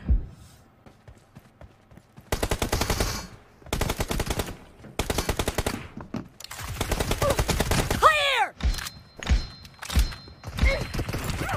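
Rapid bursts of automatic gunfire in BGMI, several loud rattling volleys separated by short pauses, with a fast sweeping whoosh and later scattered thuds and lighter shots, all close and dominant.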